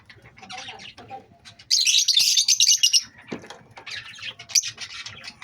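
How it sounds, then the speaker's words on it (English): Pet lovebirds of several colours, kept in a cage with Java sparrows, cockatiels and Australian parrots, chirp and tweet in quick shrill bursts, swelling into a loud dense chatter midway before thinning out. "These my lovebirds, different color of lovebirds."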